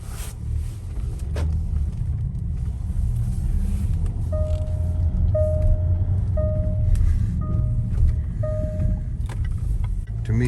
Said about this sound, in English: Let's see how this car drives